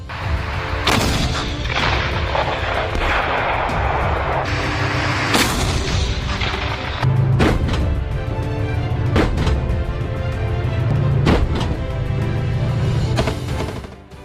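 A Russian tank and a BMPT Terminator with twin 35mm autocannon firing in combat: loud, heavy booms spaced a second or two apart over a constant roaring rumble, with no talk.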